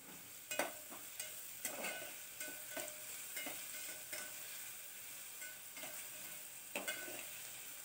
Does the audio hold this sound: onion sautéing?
yes